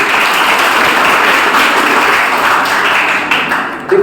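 Dense, loud clapping from a college audience at a personality development session, steady throughout and fading slightly at the very end.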